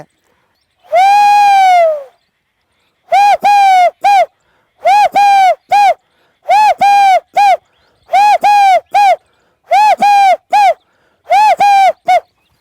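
A man imitates a koel-like bird call with his voice, one long drawn-out whistle-like note followed by a rapid series of short, paired calls repeated in rhythm, loud and close, with no other sound.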